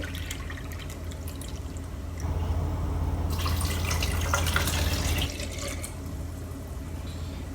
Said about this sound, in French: Je vais mettre une tasse d'eau.